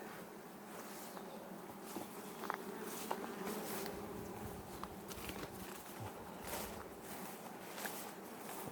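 A 2024 bee swarm flying around beehives in summer, a steady, faint droning buzz of many insects with occasional closer passes, no talk heard.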